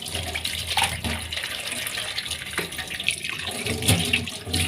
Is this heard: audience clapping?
no